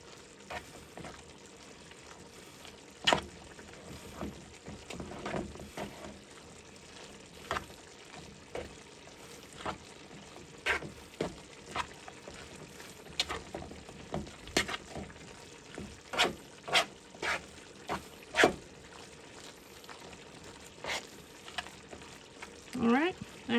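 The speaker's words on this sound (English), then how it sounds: "we're just going to get all this mixed up together" Turkey and sauce with Italian seasoning being stirred in a pan for lasagna, with a steady low sizzle broken by frequent scraping and clinking of a utensil against the pan.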